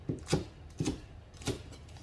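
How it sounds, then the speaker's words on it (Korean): Green onion chopped with a knife on a board: three distinct, evenly spaced thumping cuts, close and fairly soft, with no voices. "대파 정도 이렇게 착착 썰어 놓고"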